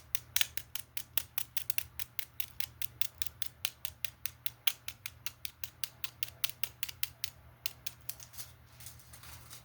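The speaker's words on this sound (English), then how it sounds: "Maybe foil tapping." Fingertips tapping on foil in a fast, even stream of crisp, close clicks, heard alone and at a constant rhythm over a faint low hum.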